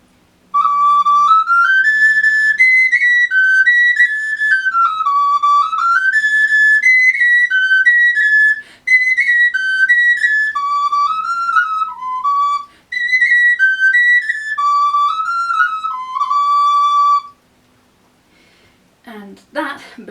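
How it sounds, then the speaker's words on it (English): A high-pitched recorder plays a loud, piercing melody in close, sustained notes that step up and down, broken by a few short pauses before a final noisy burst. "It's a bit of a shouty recorder, so if you want to go busking and be heard, this is a good recorder for you."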